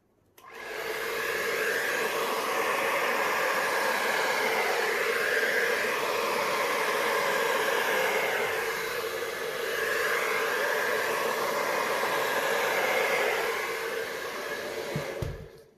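A hair dryer blows steadily across wet acrylic paint in a blue and turquoise starburst Dutch pour, a continuous broadband rushing hiss that holds close and loud for the whole span, swelling slightly as the airflow is turned.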